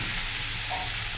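Vegetables such as taro, pumpkin stems and squash frying in oil with dried fish, a steady close hiss of sizzling with a brief stirring scrape, no voices.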